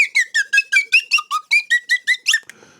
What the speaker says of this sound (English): Keep the slide whistle handy.